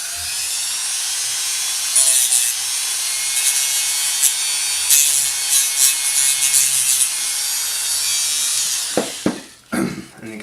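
A high-pitched rotary tool whirring and grinding gashes into blue Styrofoam for several seconds, then winding down with a few knocks at the end.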